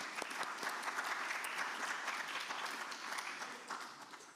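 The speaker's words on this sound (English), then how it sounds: "A big applause for him." An audience at a conference panel applauds a speaker being introduced, a dense, sustained clapping that fades slightly toward the end.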